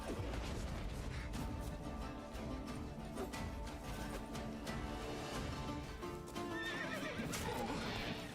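The horse Roach in a video game neighs and whinnies over steady clip-clopping hooves, loud and continuous alongside crashing game sounds, with no talk.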